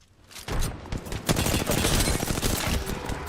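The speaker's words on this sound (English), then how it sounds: "The enemies are shooting at me." Enemy gunfire in Apex Legends: dense, loud, sustained volleys of rapid shots crackling close by with scattered heavier booms, almost no speech.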